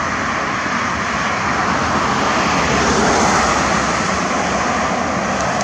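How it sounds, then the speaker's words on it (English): Airplane passing overhead at night, a loud, continuous broadband engine roar that holds steady, swelling slightly midway, with no talking. "Looks like another plane"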